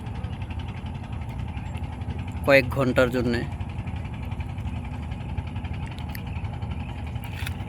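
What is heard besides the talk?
engine of a trawler boat on the Padma river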